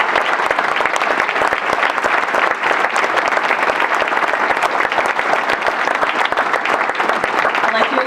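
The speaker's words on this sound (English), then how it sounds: "Can we give one last round of applause to all of our speakers here tonight?" A roomful of people at a YMCA Southcoast annual campaign kickoff breakfast gives the speakers a final round of applause, loud, dense clapping sustained evenly throughout.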